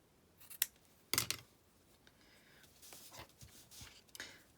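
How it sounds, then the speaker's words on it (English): Scissors trimming cardstock and paper for a Christmas card, a few sharp close snips in quick bursts followed by fainter rustling and cutting sounds. "I'm just going to cut it. I'm just going to trim that one off as well."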